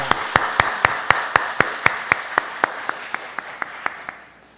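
A church congregation claps in unison for its choir at a New Year Sunday service, a steady, evenly spaced beat of sharp claps that echoes in the hall and slowly fades.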